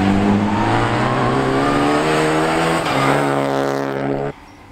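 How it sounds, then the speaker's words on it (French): A race car accelerates on track under throttle, its engine note climbing loudly and steadily for about four seconds before cutting off abruptly near the end. "remettre du gaz pour que ça tire l'auto."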